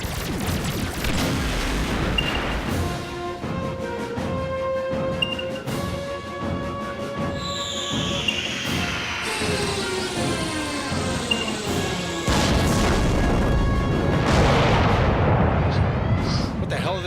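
Space combat in a video game, with repeated laser-like weapon fire, descending synthetic whooshes and rumbling explosions in a dense continuous barrage.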